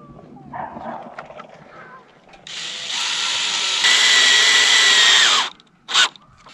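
A power drill drives screws through metal greenhouse roofing slats in one sustained whining burst of about three seconds. The pitch drops as the screw seats, and a short blip and faint handling sounds follow.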